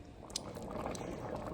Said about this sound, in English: the beans are boiling, so the water is evaporating